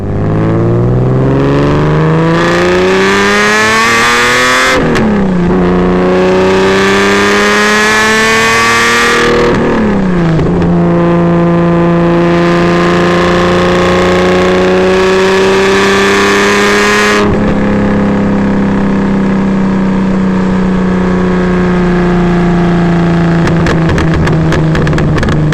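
Engine of a fibreglass-bodied car revving hard through repeated climbing pulls, each rise in pitch cut by a gear change, loud and close with no voices.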